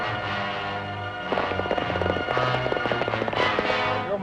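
Rifle gunshots ring out in a frontier western feud scene, a rapid burst of sharp cracks and pops over a low music bed, loud and close, following a quieter opening.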